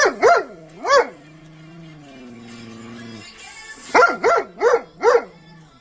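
A dog barks at its owner, who is wearing a Trend Air Shield Pro face shield respirator. Two sharp close barks, then a drawn-out whining howl, then a quick run of four loud barks.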